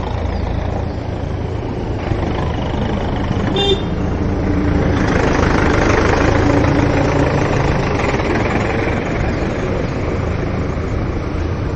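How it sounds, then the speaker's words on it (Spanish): A tractor engine runs at an outdoor used-vehicle fair, a steady low rumble in a continuous mix of traffic and engine noise, with a brief horn-like toot partway through. "Mira, están trayendo tractor."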